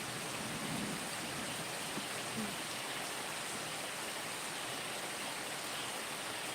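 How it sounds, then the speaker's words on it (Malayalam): A heavy downpour outside makes a dense, unbroken hiss of rain that stays steady and fairly loud throughout, with no one speaking over it. "ഈ മഴ ഇങ്ങനെ നിന്ന് കഴിഞ്ഞാൽ എങ്ങനെയാ?"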